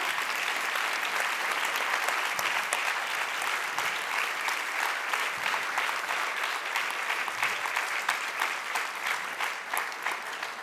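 Audience applause fills a closing awards ceremony for a youth entrepreneurship competition, a steady dense clapping from a large crowd that stays loud throughout without any speech.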